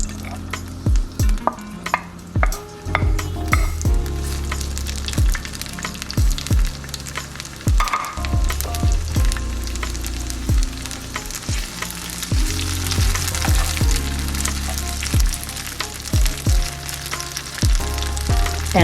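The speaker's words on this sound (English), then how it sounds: "I'm gonna add a little bit of oil to my skillet here. I'm gonna start with my onions and peppers" Onions and peppers fry in oil in a skillet, sizzling steadily at close range while repeated sharp scraping strokes of a utensil stir them.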